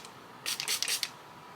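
A makeup setting spray bottle fires a brief, close hiss of mist, breaking into several quick uneven bursts over about half a second before the sound stops.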